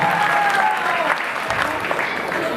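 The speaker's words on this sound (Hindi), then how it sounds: "जोरदार तालियों से स्वागत करें।" Audience applause at a Jain devotional gathering at Shikharji, a dense and loud burst of clapping from a crowd that fills the whole moment at an even level, with a faint voice underneath.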